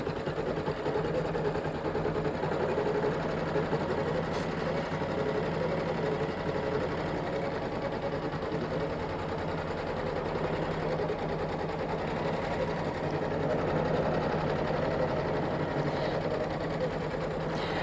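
An embroidery sewing machine runs steadily through continuous quilting, a constant mechanical whir with a rapid stitching pulse that holds close and moderately loud for the whole stretch, with no talking.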